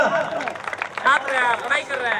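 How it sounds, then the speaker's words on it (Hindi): Applause at a village panchayat election debate gathering in Jharkhand, a steady rush of clapping from the crowd that runs the whole time, with voices and shouting mixed in over it. "क्या बात है, जोरदार तालियां।"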